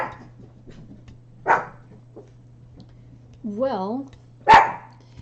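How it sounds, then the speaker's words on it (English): Sebastian the dog barks a few times: short sharp yips followed by a drawn-out whining howl and a final loud bark, heard indoors against a low steady hum, with someone briefly saying a word. "Dog's barking."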